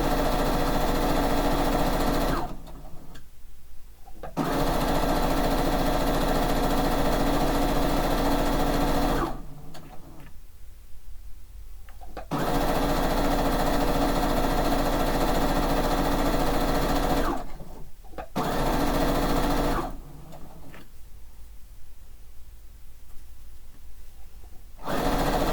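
Sewing machine stitching quilt pieces in long continuous runs of steady whirring, stopping briefly three or four times between seams, close and fairly loud.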